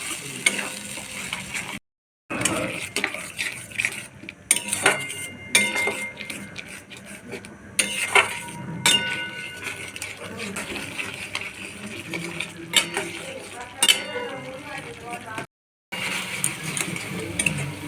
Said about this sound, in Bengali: এবার দিয়ে দেবো টমেটো পেস্টটা। দিয়ে ভালো করে কষে নেবো যতক্ষণ না টমেটোর কাঁচা গন্ধটা যায়